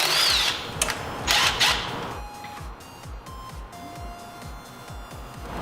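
A power drill removing intake bolts on a Mazda Miata whirs in two or three short bursts, followed by a steady run of close ratcheting clicks.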